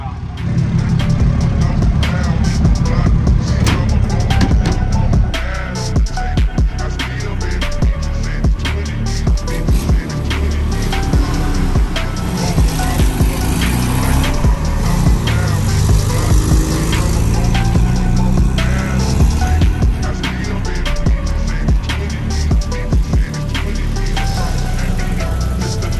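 A Dodge Ram 50 small pickup truck drives through a little mud puddle, its engine running steadily and loud throughout, with splashing and rumbling mixed under intermittent voices.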